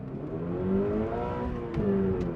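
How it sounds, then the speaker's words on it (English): A 2025 Subaru BRZ tS engine revs and pulls hard, its tone climbing steadily through two strong surges of acceleration, loud and close. "I'm going to give it some juice and then hammer it in a second"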